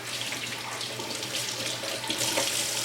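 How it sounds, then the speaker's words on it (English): Tap water runs steadily into a sink while a makeup brush cleaning glove is rinsed under it, a close, constant hissing wash with no talking. "Once I'm done, I rinse off this glove."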